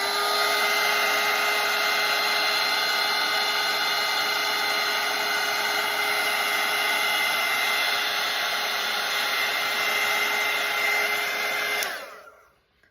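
A hair dryer blows steadily over a watercolour painting, a loud, even whirring hiss with a high whine that runs unbroken for about twelve seconds before switching off and fading at the end.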